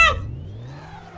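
A tuned car engine in Minecraft gives a short rev, a brief burst at the start settling into a lower rising engine hum that quickly fades, fairly faint and with no one speaking.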